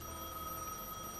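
A telephone rings in the video game Gas Station Simulator, a steady electronic bell tone held through the whole short stretch over a low, constant game background hum.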